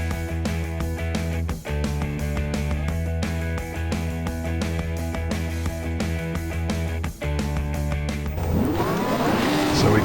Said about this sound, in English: The lights are on, revs are up, and we're away.